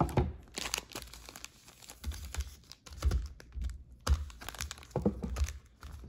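A 2023 Prizm basketball or football trading card pack is torn open up close, with crinkling foil and sharp rips in irregular bursts.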